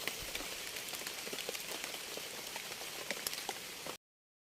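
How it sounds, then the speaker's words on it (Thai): Rain pours steadily in a forest setting, a dense close hiss of patter and scattered drops that runs unbroken before cutting off abruptly. "เดี๋ยวนี้ฝนตกเลยพี่น้อง"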